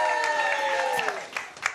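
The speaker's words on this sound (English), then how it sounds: "Round of applause for Louis Walsh" Studio audience applause for Louis Walsh during a live charity TV marathon, a brief burst of clapping and crowd noise with tonal music running underneath and fading toward the end.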